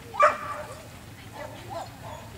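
A single sharp dog bark up front, followed by fainter yips and whimpers from dogs in the distance.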